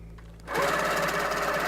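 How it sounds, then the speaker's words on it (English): A long arm quilting sewing machine starts stitching after a quiet lull, settling into a steady, loud mechanical whir with a fast needle rhythm close by, with no talk. "And just start stitching."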